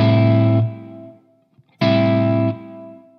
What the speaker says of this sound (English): Now if I put a long pre-delay, you'll get nothing, then the reverb will come in.